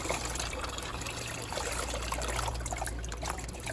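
Cold water runs steadily over dyed acrylic yarn in a sink, a constant close trickling, splashing stream with no voices.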